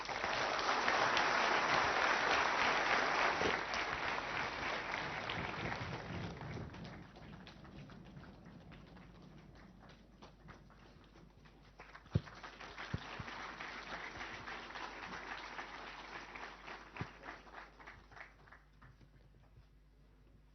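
An audience at a New Delhi seminar applauds Prime Minister Narendra Modi: a dense, loud wave of clapping fades, then a second round of scattered claps swells and thins out, with no speech over it.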